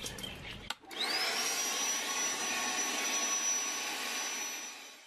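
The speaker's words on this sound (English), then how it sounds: "We used a small fan to blow out the extra debris from the bucket." A small fan blowing leftover debris out of a bucket of cocoa nibs starts up after a brief click and then runs as a steady, loud, close whooshing roar that eases slightly at the end.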